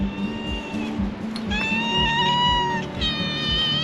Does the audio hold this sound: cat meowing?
yes